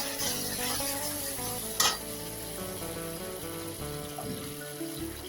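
Mustard paste being stirred in a frying pan while cooking hilsa fish, a steady sizzle and scraping stir with one brief louder clatter, close and continuous.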